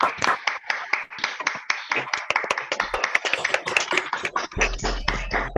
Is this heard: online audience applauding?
yes